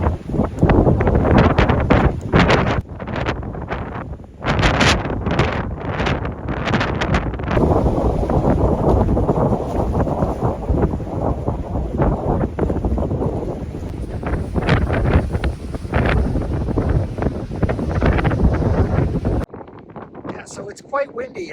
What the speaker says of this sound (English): So it's quite windy out here.